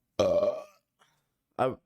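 Two loud, close burps after drinking Terrapin Hopsecutioner IPA beer: a long, rumbling one, a brief pause with a faint sound, then a shorter second burp.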